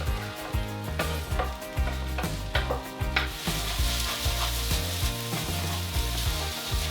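Egg added to a stir fry in a hot pan gives a steady sizzle with repeated rhythmic scraping and stirring strokes, close and continuous throughout.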